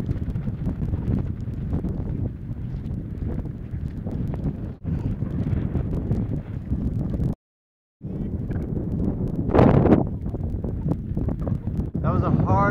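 Strong headwind buffeting the microphone during a long muddy walk on the Camino de Santiago between Hornillos del Camino and Castrojeritz, a loud continuous rumble with gusts and a brief dropout midway.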